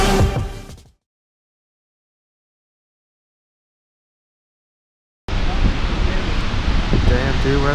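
After a brief opening sound and a stretch of silence, Snoqualmie Falls in Washington roars as a continuous broadband rush of falling water, close and fairly loud, with no talk over it.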